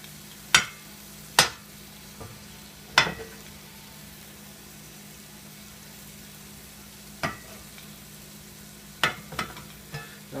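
Butter melts and sizzles in a pan for chorizo and eggs, a faint steady hiss broken by several sharp clinks and scrapes of a utensil against the pan.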